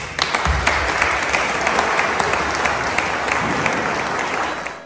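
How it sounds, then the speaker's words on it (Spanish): Loud, steady applause fills a parish gathering welcoming a new pastor, dense clapping from a large congregation sustained evenly throughout before easing off at the end. "Les pido que un fuerte aplauso."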